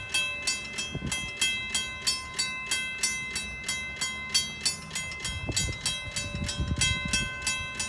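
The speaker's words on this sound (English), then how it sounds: "Definitely a great sounding mechanical bell," Mechanical bell at a railway level crossing on Pefferlaw Road in Pefferlaw, ringing in a steady fast rhythm of sharp metallic strikes, close and loud, with low rumbling noise building underneath toward the end.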